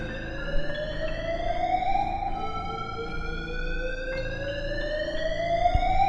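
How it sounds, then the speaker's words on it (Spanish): A loud, continuous alarm siren ringing through a hospital building, with rising, sweeping tones, rings steadily over a low background rumble. "abrió la puerta de emergencia activando una alarma en todo el edificio"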